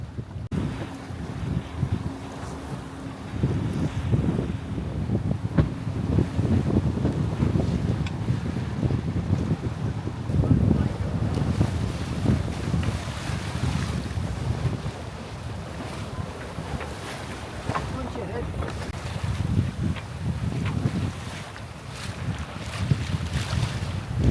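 Sailboat under genoa alone in choppy, lumpy water of the Solent against a foul tide, with continuous wind rush on the microphone, hull slapping and wave wash, loud and close.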